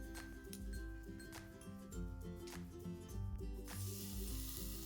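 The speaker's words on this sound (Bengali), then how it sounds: "উল্টিয়ে পাল্টিয়ে এপিট ওপিট করে ভালো করে ভেজে নিয়েছি।" Tiffin snacks frying in a pan of hot oil, turned over and over, a steady sizzling hiss under light clinks and background music, fairly quiet throughout.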